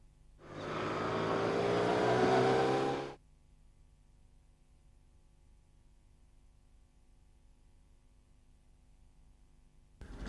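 Motorcycle riding through a curve, a loud engine burst swelling in for about three seconds with a rising pitch as it passes, then cutting off abruptly into quiet background hum.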